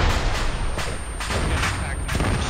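A launcher fires with backblast in a military video game, a heavy, roaring blast sound over dense, continuous battlefield noise.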